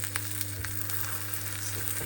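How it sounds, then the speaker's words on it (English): Continuous sizzle of an egg frying in a pan, a steady crackling hiss with small pops, close by over a low background hum. "I love the sound. I love the sizzle sound."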